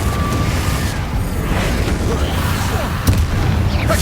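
Confringo blasting spells explode in rapid succession in the Hogwarts Legacy video game: dense, rumbling booms and crackling bursts fill the whole stretch at a steady loud level, with one sharper blast near the end.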